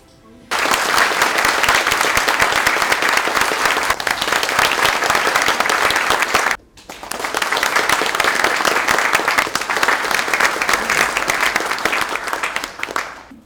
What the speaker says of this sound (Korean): 제가 호명할 때마다 여러분께서는 큰 박수로 환영해 주시기 바랍니다